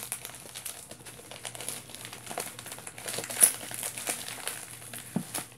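A taped delivery package from a Walmart order is torn and pulled open by hand, giving steady close crinkling and rustling of cardboard and tape with one sharper rip midway.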